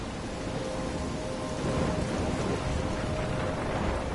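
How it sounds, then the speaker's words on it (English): Steady heavy rain with a rumbling thunderstorm in the video game Life is Strange, a dense continuous wash of rainfall and low rolling thunder that swells slightly midway, no voices. "I'm trapped in a storm?"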